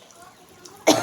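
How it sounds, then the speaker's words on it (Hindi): A single sharp cough bursts out near the end after a quiet stretch, close and abrupt. "मेरा ना गला ख़राब हो गया, खांसी हो रही है"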